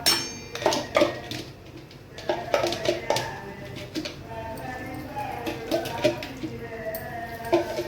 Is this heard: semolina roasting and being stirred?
yes